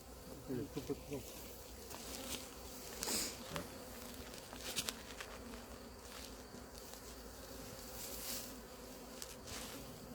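Bees buzzing around a swarmed beehive, a steady faint hum of many insects with occasional louder passes close by and light handling noises.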